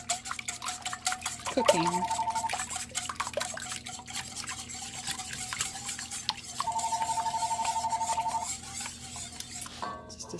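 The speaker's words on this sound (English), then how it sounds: "I want to get them stirred up before they start" A spoon stirs food in a kitchen pot, with soft scraping and clinking. Two long electronic beeping tones sound over it, and a voice speaks briefly.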